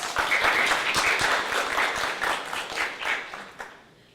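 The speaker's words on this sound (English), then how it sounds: "Can you join me in a round of applause?" A round of applause for the troops at a secondary school election event, dense clapping from a seated crowd that swells, holds, then thins and fades out over about four seconds.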